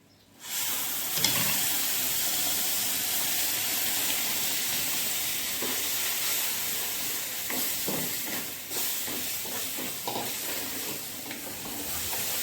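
Mango puree hits roasted semolina in a hot pan for mango sheera, and a loud, steady sizzle and hiss begins suddenly, then carries on with stirring scrapes over it.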